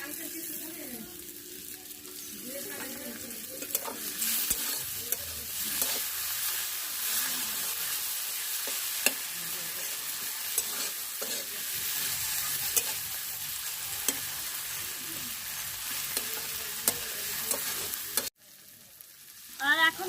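Chopped tomatoes sizzle and fry with chilli powder and cumin powder in a pan for a cauliflower and egg curry, a steady close hiss broken by scattered stirring clicks, with a sudden brief cut near the end.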